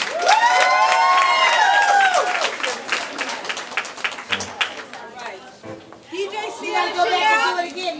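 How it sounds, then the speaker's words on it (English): Applause and cheering from the audience at a young women's symposium on a college campus, a sustained loud wash of clapping mixed with crowd chatter, with singing or music-like tones and voices layered over it. "give a round of applause to Rosiah Yuri"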